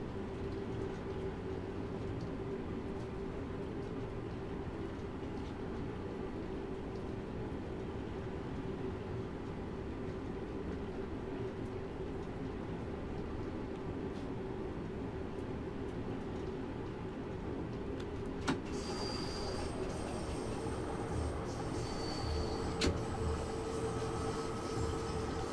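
A London Underground Bakerloo Line train in the video game Train Sim World 2 coasts with power off, giving a steady low rumble and rail roar throughout. A brighter whine and a couple of clicks come in near the end.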